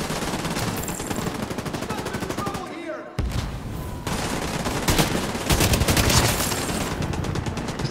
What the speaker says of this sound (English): Oh, now I'm being shot at.